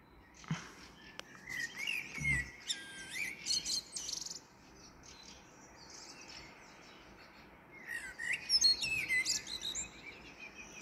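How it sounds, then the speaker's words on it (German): A Eurasian blackbird sings outdoors at dusk in short, warbling phrases, with a cluster of calls early and another burst near the end, moderately near over a quiet background without talk. "Jetzt ist die Amsel mit drauf."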